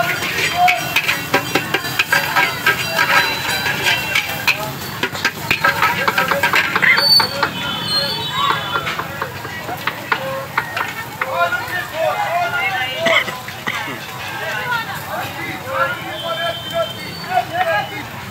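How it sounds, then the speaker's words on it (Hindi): Cabbage fries in a large pan at a street stall making Manchurian, with a continuous sizzle and scraping stirs beneath someone talking over busy surrounding noise. "तो भैया और पत्ता गोभी वगैरह डाल दिया है, तो इसको फ्राई कर रहे हैं"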